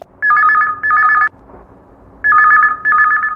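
Telephone ringing for a call-in to a women's radio program, two loud double-burst electronic rings separated by a short pause, clear and close with no voices.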